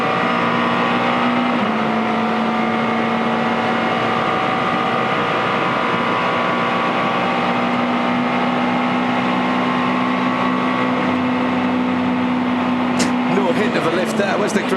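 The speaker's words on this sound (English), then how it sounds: "Let's have a listen to the McLaren, the 12C, as he runs down Conrod Straight." A McLaren 12C race car at full throttle down Conrod Straight at the 2014 Bathurst 12 Hour, a loud, steady high-revving engine drone that holds for the whole stretch, with a brief burst of sharp noise near the end.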